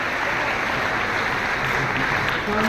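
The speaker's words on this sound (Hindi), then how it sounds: "जोरदार तालियों से अभिनंदन।" A large audience at a ceremony in Delhi, where nursing officers receive appointment letters, claps loudly and continuously, a thick, even roar of applause with no pauses.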